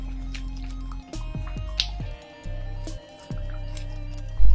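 Fried paneer pieces are gently mixed into a thick butter masala gravy. Several soft, wet squelches and drips follow one another close up over a low background hum, with no speech.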